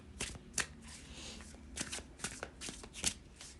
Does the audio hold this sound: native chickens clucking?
no